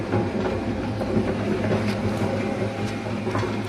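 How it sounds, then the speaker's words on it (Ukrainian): A used SM-130 concrete mixer running on 220 V at its single speed, a steady loud mechanical drone with a rattling, clattering rumble and no pauses. "Одна швидкість, тобто вмикаємо. І бетонозмішувач у нас працює."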